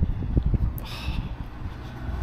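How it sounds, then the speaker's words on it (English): Cold, wet, windy outdoor weather buffeting the microphone, a continuous low rumbling roar with gusty fluctuations throughout, close and fairly loud. "Cold, windy, wet."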